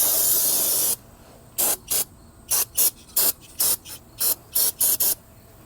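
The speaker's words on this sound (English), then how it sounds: "I'm gonna spray it down one more time" Bursts of aerosol spray hit the rear brake parts of a 2013 Kia Soul: one long hiss, then about nine short, regular spurts close to the mic.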